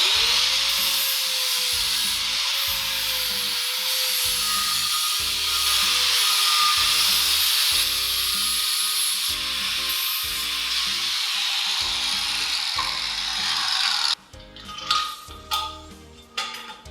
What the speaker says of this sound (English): what we're going to do is use grinder